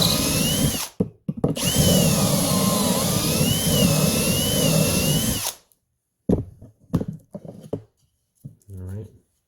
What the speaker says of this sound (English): Just going to drill your holes into A and B.